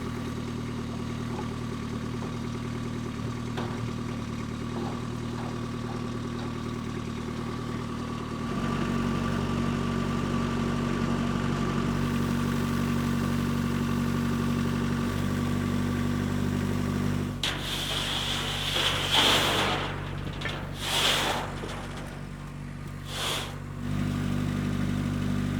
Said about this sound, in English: I'm just gonna move these sheets back there with the mini skid.